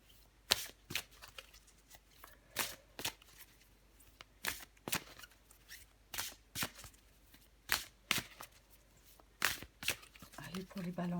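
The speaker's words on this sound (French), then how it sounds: "Je vais encore tirer une carte pour vous, les balances." Tarot cards shuffled by hand in quick bursts, with sharp riffling snaps recurring about once a second and quiet pauses in between, close and moderately loud.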